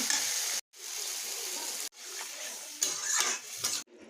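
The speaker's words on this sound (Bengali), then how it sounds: "ভাজা হয়ে গেছে মশলা, এবার জল ঢেলে দেব।" Water poured into a pan of frying spices, with a bubbling, hissing sizzle that cuts out briefly twice and then returns louder with sputtering bursts, plus faint clinks of utensils and no talk.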